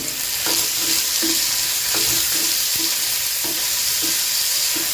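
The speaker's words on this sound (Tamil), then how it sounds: "இப்படி துண்டு துண்டாக இருக்கிற தக்காளி பழம் அப்படியே நல்லா மாஞ்சி மசிஞ்சு வரும் வதக்கி எடுத்துட்டேன்" Chopped tomatoes sautéing in a pan give a loud, steady sizzle, with spatula scrapes and taps repeating every half second or so and no talk.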